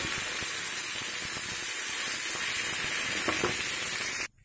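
Amla (gooseberry) pickle sizzling in an oil tempering with asafoetida in a pan, a steady close hiss with a few crackles, cutting off abruptly near the end.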